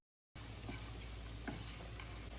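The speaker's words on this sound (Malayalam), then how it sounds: "നല്ല തേങ്ങ വറുക്കുന്ന, തേങ്ങാവും കാഷ്യും ഗീയിലിട്ടിട്ട് വറുക്കുന്ന ആ ഒരു മണം ഇല്ലേ" Grated coconut and cashews fry in ghee with a soft, steady sizzle that starts abruptly and holds evenly, with faint scattered crackles and no voices.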